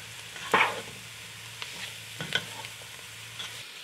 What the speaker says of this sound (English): we're gonna stir and cook for 3 minutes